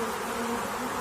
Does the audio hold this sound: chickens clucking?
no